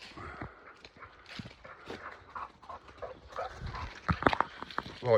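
A dog stuck behind a fence outdoors moves about with scattered scuffing steps and faint rustles, the sounds getting louder toward the end, with no clear bark.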